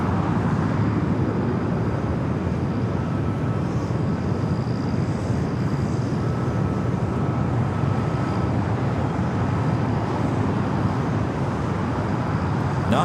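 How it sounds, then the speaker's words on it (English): A Boeing 777 freighter takes off from runway 25R at LAX, heard as a continuous, fairly distant jet engine roar and rumble that stays steady throughout. "The 777 freighter going to be taking off 25 right at Foxtrot."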